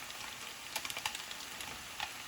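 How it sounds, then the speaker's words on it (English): Tofu and mixed vegetables sizzle in a pan with Kashmiri chili powder, a steady faint crackling fry with small pops and light stirring, no voices. "keep frying them when you're doing your veggies"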